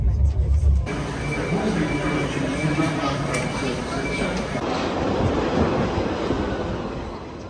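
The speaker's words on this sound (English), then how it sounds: "That train doesn't look like it's got a G carriage." A train rumbles steadily past at a London railway station, a continuous loud roar with a high whine partway through.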